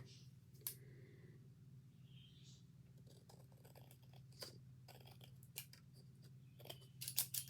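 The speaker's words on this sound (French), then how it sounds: "donc je vais finir au ciseau" Scissors snip through paper pages for a handmade scrapbook album, producing faint, sparse, irregular cuts that grow a little busier toward the end over a low steady hum.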